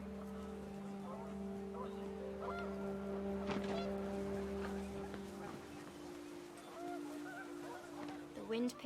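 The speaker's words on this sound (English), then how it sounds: "The wind picked up, and panicked geese appeared and quickly went." Panicked geese honk in a video game, the calls set over steady wind and rain-like ambience with a low droning hum, a few loud honks bunched near the middle and again at the very end.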